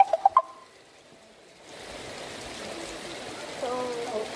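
Steady rainfall in South Florida settles into a soft, continuous patter and wash after a few sharp taps at the very start, growing slightly louder toward the end.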